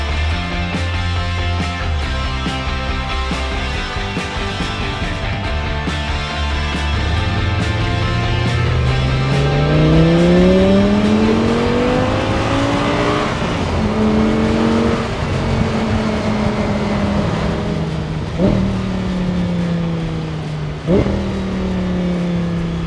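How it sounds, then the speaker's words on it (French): A loud V10 engine of an Audi R8 V10 Spyder 525 convertible, with no particulate filter and no exhaust valve, revs up through the gears, its pitch sweeping higher with each climb, a sustained high-revving wail with brief shifts in between. "Et le son du V10, pas de FAP, pas de fioriture, même pas de valve à l'échappement."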